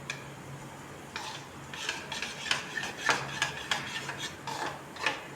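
Grated carrot stirred into beaten yogurt for carrot raita, a run of soft wet scraping and clinking spoon taps against a bowl, irregular and close, with no talk.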